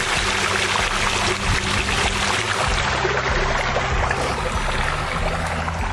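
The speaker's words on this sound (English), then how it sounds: "we're just rinsing this down, doing some final touches on the sides" Garden hose spraying water over the rocks of a newly built aquascape pond, a dense continuous splashing wash heard close and loud throughout, with a steady low hum beneath.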